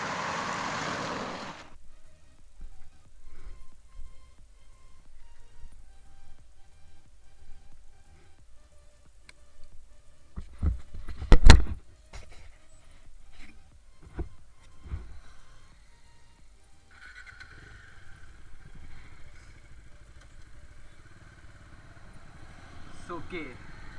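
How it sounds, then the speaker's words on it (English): A Bajaj Dominar 400 BS6 motorcycle being ridden, its low engine drone steady under a voice talking throughout, with a sharp loud thump near the middle and a brighter, busier stretch of road and wind noise toward the end. "riding the Dominar 400 for the first time"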